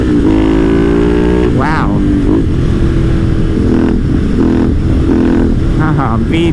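A Ducati V-twin motorcycle accelerates on the road with a loud, continuous, deep throbbing engine roar, while a rider's voice breaks in repeatedly over the noise.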